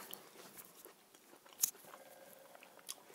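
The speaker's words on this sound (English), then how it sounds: "roll it up, and take a bite" Someone bites into a rolled carnitas wrap with pasilla chilies and sour cream, giving a short crunchy bite with soft chewing around it, close and quiet, with no talking.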